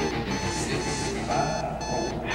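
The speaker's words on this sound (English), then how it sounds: "Actually, the alarm was not going off when we filmed this. I just added in the sound and the sound of him pushing the button." An alarm clock rings as an added sound effect, a continuous buzzing ring that holds steady for a couple of seconds at moderate loudness without any talking.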